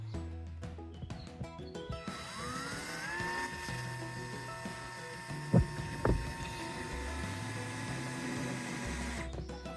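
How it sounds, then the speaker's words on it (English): A power drill drives into a wooden batten on a chicken coop, whirring up to speed and running steadily, its pitch rising as it spins, with a couple of sharp knocks midway, then winds down. "So that's drilling down onto the batten you've just seen"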